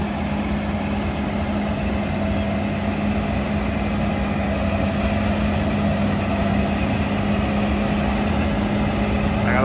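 A Fendt Ideal 9 combine harvester runs at high revs with a loud, steady jet-like roar and whine, sustained throughout and close by; a faint voice may sit under the engine noise.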